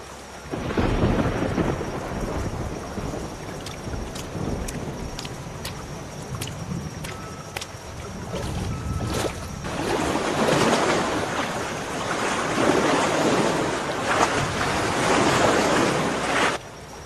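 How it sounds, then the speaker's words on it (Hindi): Cartoon storm over a pond where a fisherman works: loud rolling thunder, gusting wind and crashing waves with rain, swelling in intensity across the stretch. "उधर तूफान भी बढ़ता जा रहा है"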